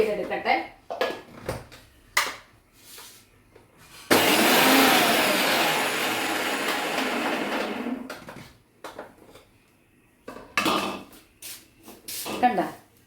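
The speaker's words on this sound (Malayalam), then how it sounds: "അപ്പോഴൊക്കെ ഈ മിക്സിയിലിട്ട് വെച്ചേക്കുന്നത് ഞാനൊന്ന് ക്രഷ് ചെയ്തെടുക്കട്ടെ" A kitchen mixer grinder crushing spice mix for a Kerala fish curry runs in one loud, steady burst of about four seconds, with talk and clattering kitchen sounds before and after.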